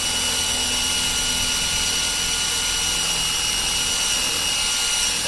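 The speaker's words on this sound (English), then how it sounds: "Now we're just going to put a drill hole right straight through there" A power drill bores a hole through the skid shoe of a Toro 60-volt battery-powered snowblower, a loud, steady, unbroken motor whine with a harsh grinding edge that holds level throughout.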